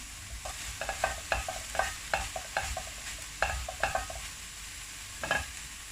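Vegetables, including cabbage, frying in a pan for a vegan curry, a steady sizzle broken by repeated scraping stirs at an uneven pace, close by with no talking.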